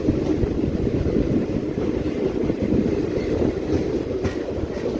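Passenger train pulling away through hill country in a general coach, a steady loud rumble and clatter of wheels on rails heard from inside the carriage, continuous with no talk.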